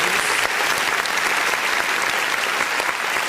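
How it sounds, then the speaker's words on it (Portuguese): A church congregation at a Sunday service applauds in a loud, continuous, even wash of clapping that holds steady from start to finish with no voices on top. "Vamos aplaudir"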